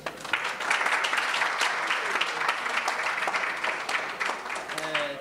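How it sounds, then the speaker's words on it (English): An audience at a teaching with technology summit applauds a professor after his keynote address, a dense round of clapping that holds steady and tapers near the end, with some voices mixed in. "Ladies and gentlemen, can we give a round of applause for Prof?"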